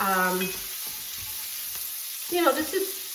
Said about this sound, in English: I've got my oil and a little bit of bacon grease cooking in here. So let's get our vegetables sauteed a little bit.